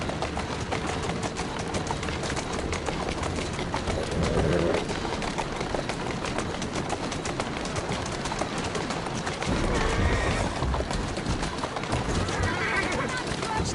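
A horse whinnies a couple of times over a steady clip-clop of hooves, with a voice faintly in the mix, in the video game Assassin's Creed Syndicate.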